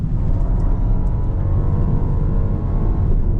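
BMW 118 M Sport hatchback engine pulling hard under acceleration with an automatic upshift, a loud continuous low drone filling the cabin with no pauses.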